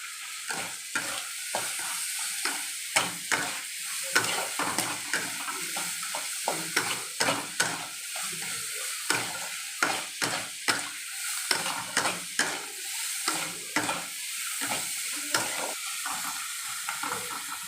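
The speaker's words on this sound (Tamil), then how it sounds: "வெங்காயத்தை போட்டு நல்ல வெங்காயத்தை நல்லா ஃப்ரை பண்ணணும்." Onions frying and being stirred in a pan for pepper chicken, a steady sizzle broken by repeated scraping spoon strokes at an uneven rhythm, close and fairly loud with no talk.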